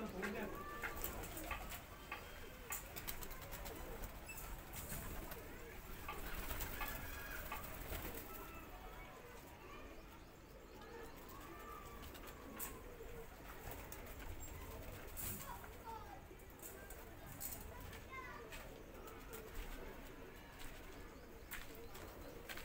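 Pigeons coo softly and repeatedly at a loft during a late-afternoon flying session, with occasional chirps and wing flaps amid steady outdoor background noise.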